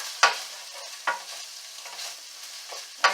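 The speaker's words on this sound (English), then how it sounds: "I'm going to mix that in." Turnip greens being stirred with pepper in a hot pan, giving several sharp scraping strokes of a utensil spaced about a second apart over a faint sizzle, close and fairly loud, with no voices.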